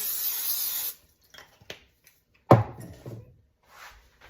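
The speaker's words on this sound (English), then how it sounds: "We're gonna spray a baking dish with some nonstick cooking spray." A can of nonstick cooking spray hisses steadily for about a second onto a baking dish, followed by a clunk of the dish being set down and light handling noises.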